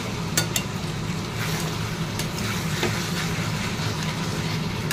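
Pointed gourd (potol) frying with potatoes and spices in a pan, giving a steady close sizzle with a few brief clatters from stirring.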